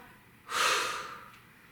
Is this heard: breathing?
yes